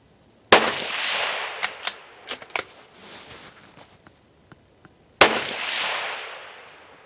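A new Savage 93 rifle chambered in .21 Sharps fires two loud, sharp shots several seconds apart outdoors, each trailing into a decaying echo, with faint dull taps from bullets hitting a distant steel target and a few clicks in between.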